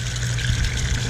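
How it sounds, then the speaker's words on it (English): Water draining steadily through an aquaponics bell siphon in an ebb and flow grow bed, a close, continuous gurgling trickle with a low churning rumble and no pauses. "when the water hits the inner pipe and starts going over, it creates a suction that sucks from the very bottom"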